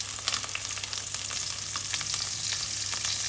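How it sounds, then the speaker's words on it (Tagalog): Onion, garlic and lemongrass sautéing in hot oil for a vegetarian curry, a steady close sizzle with occasional stirring scrapes and crackles, no talking. "igisa na natin ang ating sibuyas, bawang, at lagyan ko rin siya ng"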